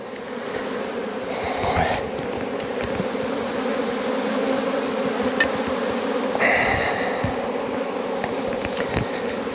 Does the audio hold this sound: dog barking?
no